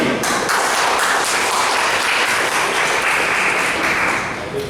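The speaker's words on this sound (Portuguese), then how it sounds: "Um aplauso para o David." A conference audience applauds a presenter at a presentation event, a dense, even wash of clapping that holds steady and then begins to fade.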